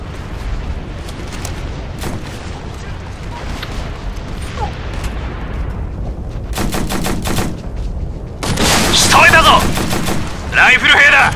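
Bursts of automatic suppressive gunfire in the war game Operation Flashpoint: Red River, rapid rattling volleys growing louder and denser toward the end over a rumbling battlefield background, with faint voice chatter.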